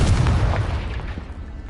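A Confringo blasting curse explodes in Hogwarts Legacy, a loud, deep booming burst that rumbles and fades over a second or so.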